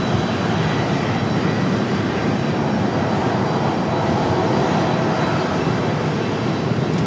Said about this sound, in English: Alaska getting ready for their departure